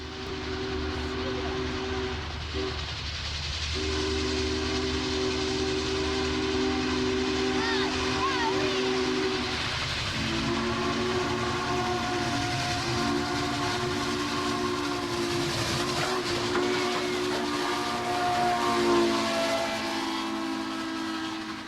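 A Union Pacific steam locomotive runs past with a long, loud whistle sounding in sustained blasts over the rumble and clatter of the train, a brief gap breaking the whistle early on.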